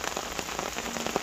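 Steady rain pattering on the taut fabric of a Dutch Army hooped bivvy during a storm, dense and continuous with scattered louder drops close by.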